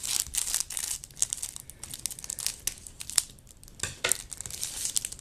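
Scissors snip and crinkle through the plastic packaging of an iPad mini case in a close, irregular run of sharp cuts and crackling rustles, with no talking.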